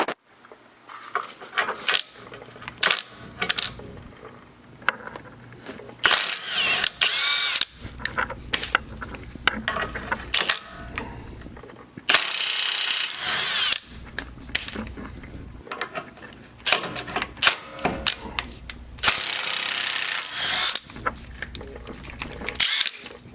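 An impact driver or drill zips the ball joint bolts and nuts off a Honda Civic lower control arm, several loud close whirring bursts with pauses between them, mixed with clanking tool noise.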